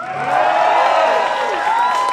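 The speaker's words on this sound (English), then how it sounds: "you guys clap it up and make some noise" A live audience at a cannabis game-show event claps and cheers in a steady, loud wash of applause and whoops, with voices mixed into the crowd noise.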